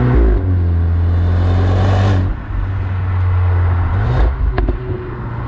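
A Cupra Formentor with a TSI petrol engine, 1.5 or 2.0 litre, revs hard at high rpm: a loud, close, sustained engine drone that drops briefly midway, then climbs again with sharp pops near the end.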